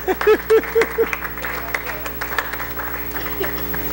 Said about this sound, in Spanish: Dele un aplauso al Señor por la vida de Efraín.